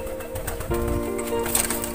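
Pigeons coo softly close by, with a low steady murmur and faint background noise through the short stretch.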